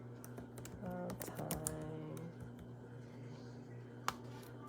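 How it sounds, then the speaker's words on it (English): Quick bursts of keystrokes tapped on a computer keyboard while searching for a movie title, clustered in the first couple of seconds over a steady background hum, with a single sharp click later and a brief spoken word. "I think I'm typing it wrong because it ain't coming up"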